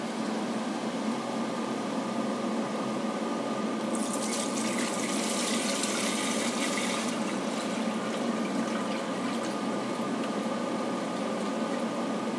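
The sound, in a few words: pouring raw spirit into copper still pot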